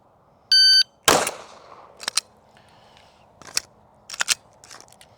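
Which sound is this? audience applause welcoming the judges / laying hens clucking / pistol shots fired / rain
pistol shots fired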